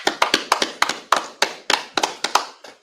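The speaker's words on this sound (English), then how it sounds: "All right, clap it up." A small gathering at a Purim feast in Chicago claps in a slow, rhythmic beat, about a dozen sharp, close hand claps evenly spaced, then fading.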